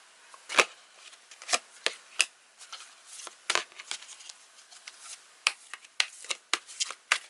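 Tarot cards are shuffled close up in a quick run of crisp riffles and slaps, each burst sharp and separate, with short pauses between.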